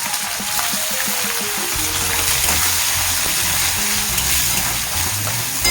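Chopped garlic, onion and spices fry in a pan for a ridge gourd mash, with a continuous loud sizzle and crackle, alone and close, with occasional faint stirring.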